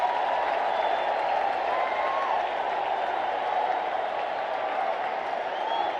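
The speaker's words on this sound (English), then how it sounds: "The crowd is going bananas." A baseball stadium crowd at an Orioles home game against the Rangers cheers and applauds in a dense, steady roar that holds at full volume without a break.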